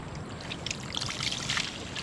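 Water from a mountain source flows through a cut hose, trickling and splashing steadily at close range, a continuous wet flow with bubbling gurgles, no voices.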